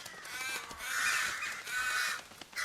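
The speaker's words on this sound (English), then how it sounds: "Wow, what's up with the crows?" Crows caw harshly in a survival video game, several loud, rasping calls overlapping in quick succession with no voices.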